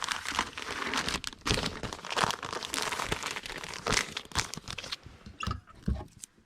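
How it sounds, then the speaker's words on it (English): Plastic comic book bag crinkling as a worn video game case is slid inside, a close, irregular run of crackles and rustles that thins out toward the end. "We'll put this in a used comic book bag."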